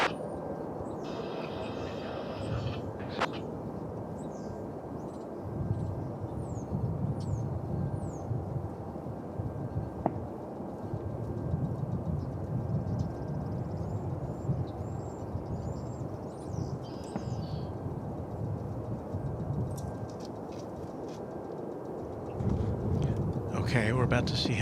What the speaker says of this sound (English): I don't think we're gonna be able to eliminate all the wind noise today, because it's just a windy day.